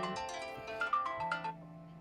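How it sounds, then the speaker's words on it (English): A mobile phone plays its ringtone for an incoming call, a loud, bright electronic melody of repeating tones sounding close by with no talk over it. "My family doctor is calling me."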